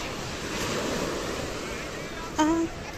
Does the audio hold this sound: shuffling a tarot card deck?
no